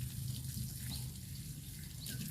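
Touch-me-not (Mimosa pudica) leaves are rinsed under running water, a steady close stream splashing as a tap or sink fills, with no voices.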